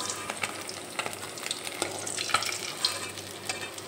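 Bhola fish fry in hot oil in a pan, a steady soft sizzle and crackle with small pops and the occasional scrape of a spatula, close by and with no talking.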